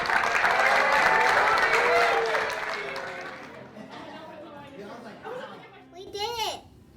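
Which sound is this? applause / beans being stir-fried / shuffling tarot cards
applause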